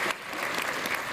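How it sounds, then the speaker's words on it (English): Audience members at a public talk on fusion energy clap in a brief, dense burst of applause that stays even and moderately loud throughout. "That was just sort of applause going on randomly."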